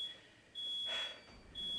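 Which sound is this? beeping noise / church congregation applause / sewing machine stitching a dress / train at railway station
beeping noise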